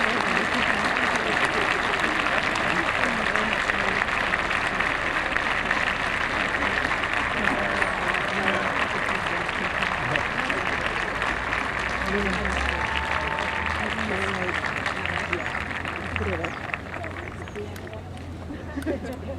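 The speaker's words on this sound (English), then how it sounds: "give our #1 supporters, our parents, an enthusiastic round of applause" A graduation audience applauds the graduates' parents, long sustained clapping with crowd murmur mixed in, loud at first and gradually thinning toward the end.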